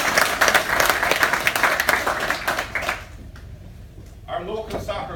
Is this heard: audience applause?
yes